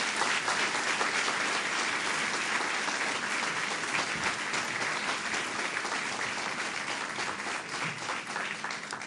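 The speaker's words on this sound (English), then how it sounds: "So please give him a big round of applause." Dense, even applause from an audience at a government announcement event, a steady wash of many hands clapping for about nine seconds without letting up, fading only slightly at the close.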